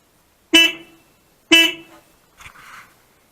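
Two loud, short honks from a replacement horn on a Suzuki K2 GSXR 600 motorcycle, each a sharp blast that decays quickly, followed by a softer, fainter sound, with quiet between them.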